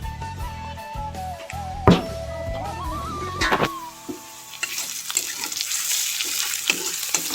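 Chicken pieces frying in a pan for a home-cooked meat and roti meal, a steady close sizzle with occasional stirring clatter and a louder hiss building near the end, mixed with some background tones.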